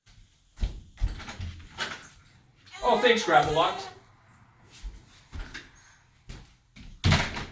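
A door opens and knocks sound nearby, with clattering thumps and a rattling burst in the middle, set against someone talking throughout.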